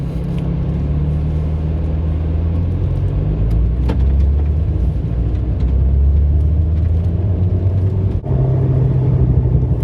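From inside the cabin, an Alpine A110 sports car pulls away in first gear on a track day, its engine a steady low rumble that grows slightly heavier, with road noise and a brief dip near the end.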